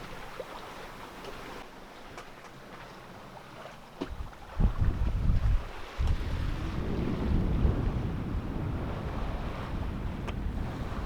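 Light wind and ocean waves around a sailboat crossing the Pacific at about three knots, with steady breezy rushing and wind buffeting on the microphone, plus a louder swell of water washing past partway through.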